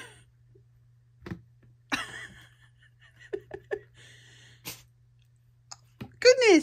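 A small pet sneezes indoors in a bedroom, with a few short, sharp bursts scattered between quiet pauses and a louder burst near the end, over a low steady hum, with a voice nearby.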